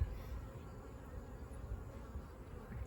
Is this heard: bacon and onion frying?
no